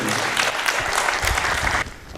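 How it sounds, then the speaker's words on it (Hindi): Enthusiastic applause from the audience at a Hindi drama festival, dense clapping that stays loud for nearly two seconds before dropping off abruptly. "आपकी जोरदार तालियां दीजिए"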